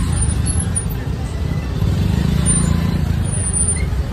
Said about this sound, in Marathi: खूप खतरनाक ट्रॅफिक आहे इकडे